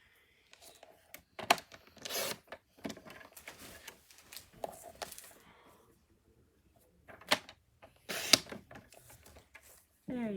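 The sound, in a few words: cutting a piece of white cardstock down to 2 by 2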